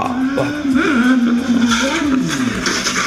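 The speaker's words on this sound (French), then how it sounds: "le bruit de la moto qui crache à la fin là" A motorcycle doing a wheelie, its engine loud and close, revving with a wavering, uneven pitch that rises and falls and breaks into rough sputtering bursts.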